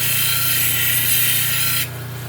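A gnarly gray shell piece is ground into a pendant with a loud, close, harsh grinding rasp over a low motor hum, cutting off sharply near the end while the hum continues briefly.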